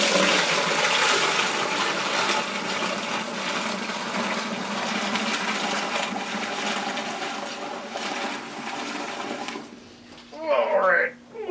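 Beer wort pours in a steady, loud gushing rush into a brewing vessel for a French lager hybrid, then cuts off near the end, leaving brief scraping handling noise.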